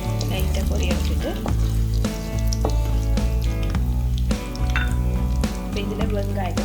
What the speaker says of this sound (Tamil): இதில் இப்போ எண்ணெய் விட்டுருக்குறேன். அதுக்குள்ள கடுகும் பெருஞ்சீரத்தையும் போட்டு லைட்டாக பொரிய வச்சுட்டு